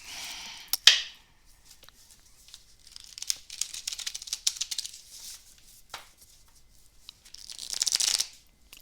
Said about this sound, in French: Je vais bien remélanger les cartes.